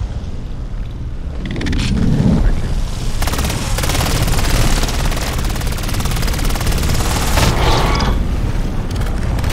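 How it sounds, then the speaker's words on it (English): Loud, continuous gunfire from a zombies video game as a player keeps shooting a worm creature, with rapid bursts, booms and heavy action noise throughout, and voices talking over it. "You just keep shooting that worm, Lyman."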